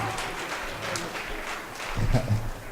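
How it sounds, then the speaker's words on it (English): Short burst of applause from wedding guests after a toast, modest clapping in a reception room that swells briefly near the end. "All right, give them a round of applause, you guys."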